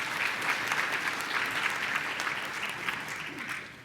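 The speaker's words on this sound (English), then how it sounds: "that's a round of applause" A crowd at a Holocaust commemoration gives a round of applause, dense and even clapping throughout that tapers slightly at the end, with no talking over it.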